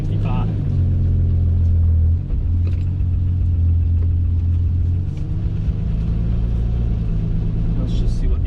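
A Ferrari 365 GTC/4 gives a steady, loud, deep exhaust rumble from inside the car, a continuous low drone with slight shifts in pitch as a voice talks over it.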